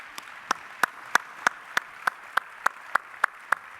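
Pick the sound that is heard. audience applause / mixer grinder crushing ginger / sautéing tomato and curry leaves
audience applause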